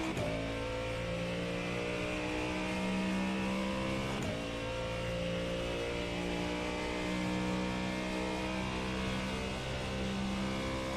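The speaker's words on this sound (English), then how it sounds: "Yeah, outside engine noise." Ford GT3 race car in the iRacing sim, its engine droning loudly and continuously with sustained revving tones and a brief gear shift midway, no voices.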